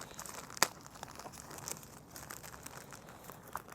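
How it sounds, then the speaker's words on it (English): Tape is peeled off a plastic air layering wrap on a fig tree branch, a close, quiet crinkling and rustling of plastic with one sharp ripping snap near the start. "peel the tape off here"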